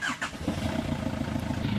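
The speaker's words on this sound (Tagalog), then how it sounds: "pa-start ko na itong makina." A car engine cranks and catches at the start, then settles into a steady, fairly loud idle close by, with no talk over it.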